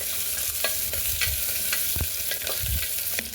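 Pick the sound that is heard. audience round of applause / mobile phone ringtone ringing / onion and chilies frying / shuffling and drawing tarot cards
onion and chilies frying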